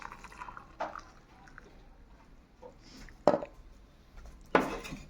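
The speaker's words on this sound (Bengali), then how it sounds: "এবার দুধটা এই পেস্টগুলোর মধ্যে ঢেলে দেবো" Hot milk poured into a dry fruit paste in a quiet kitchen, with soft splashes and a few sharp clinks of utensils against a container, separated by near silence.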